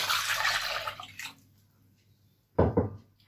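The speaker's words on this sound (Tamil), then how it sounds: "எடுத்து வச்சிருக்கிற 3 கப் பால் சேர்த்துக்கலாம்" Milk poured into a pan while making a white sauce for chicken lasagna: a steady liquid splash for about a second, then a short second burst of pouring near the end.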